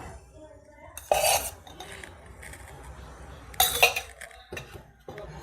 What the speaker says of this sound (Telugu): ఇలా చిన్న కడాయి పెట్టుకుని 2 స్పూన్స్ నెయ్యి వేసుకుందాం